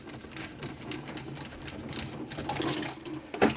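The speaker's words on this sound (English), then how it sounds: "And then you have water going down" Water drains from a bathroom sink with the plastic trap removed, a steady close splashing and trickling flow that swells slightly toward the end, with a sharper splash at the finish.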